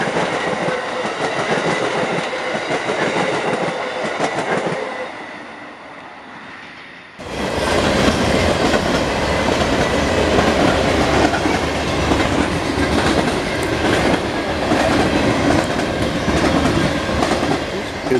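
An Amtrak train rolls past with a loud, continuous rumble and rhythmic clickety-clack of wheels, quieter at first, then suddenly much louder and closer for the rest of the passage, no talk.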